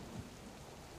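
Steady rain in the survival game Subsistence, a soft, continuous wash of drops with no voices over it.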